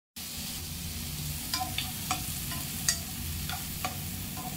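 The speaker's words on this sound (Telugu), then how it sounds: "ఫస్ట్ ఇవి ఆయిల్లో ఫ్రై చేసుకుందామండి. కొంచెం పసుపు వేసి ఆయిల్లో ఫ్రై చేద్దాం." Halved mushrooms frying in oil with turmeric give a continuous close sizzle, broken by occasional light clicks of a spatula stirring in the pan, fairly loud and steady, with no voices.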